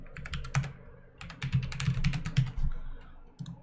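Computer keyboard typing code during a computer science livestream, a close run of quick uneven key clicks in bursts with short pauses, no voices.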